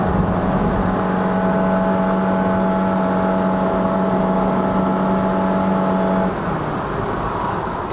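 A Honda Shuttle 1.5L i-VTEC with a CVT accelerates at 88% throttle in Malaysia. Its engine holds a loud, steady droning pitch from inside the cabin, then the tone drops away near the end, with no voices.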